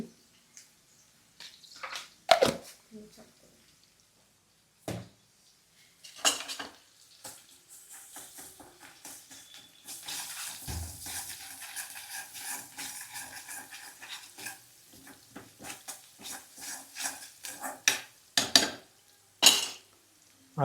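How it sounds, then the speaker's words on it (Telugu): Ginger garlic paste being stirred in a pan with a metal spoon while frying for a stuffed eggplant curry: irregular scraping and clanking strokes against the pan, a soft sizzle in between, and a longer stretch of steady stirring in the middle. "కలుపుకుంటున్నా అండి అల్లం వెల్లుల్లి పేస్ట్"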